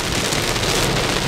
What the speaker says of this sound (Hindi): बारिश की आवाज देखो भाई।